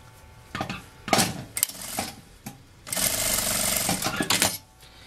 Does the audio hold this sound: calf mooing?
no